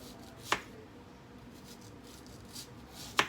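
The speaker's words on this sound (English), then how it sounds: "And I always slice my onions like this, round way. Just slice them down." A knife cuts onions into rounds, two crisp isolated chops against the board about three seconds apart, close and clear with a quiet background between strokes.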